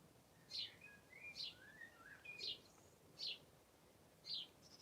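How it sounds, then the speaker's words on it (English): Several distinct bird chirps repeat about once a second, clear but fairly quiet over a soft background hiss, with no talking. "What do you think the birds are saying?"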